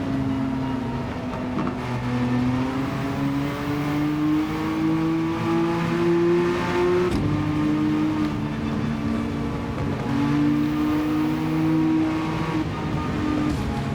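Race cars battling for first place in Gran Turismo 7 during a Spa endurance race, engines droning loud and steady with rising and shifting pitch throughout, no talk.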